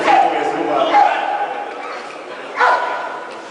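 A police dog barks during a dog-handling demonstration at an outdoor auto show in Nitra, with a few sharp barks close by over steady talk from an announcer.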